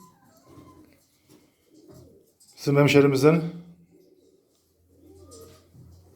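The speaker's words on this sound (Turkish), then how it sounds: "3 tane kuş getirdim." A pigeon coos in a short, loud burst of throaty, rolling calls, with quiet talking before and after it.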